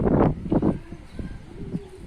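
Soft, low coos from Budapest pigeons repeat in a few short bursts, close by, with a faint warbling call trailing at the end.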